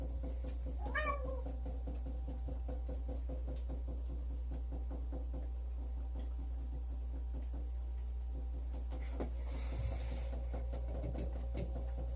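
A cat meows once early on against a steady low hum, followed by faint scattered tapping and knocking sounds.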